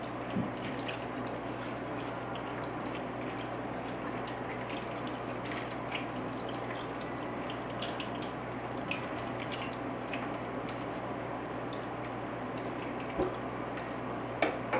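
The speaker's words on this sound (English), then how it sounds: "take your tomato juice and you're just going to pour it onto the cabbage" Tomato juice poured steadily onto cabbage, a soft continuous wet trickle with faint drips, quiet and close, with no talking.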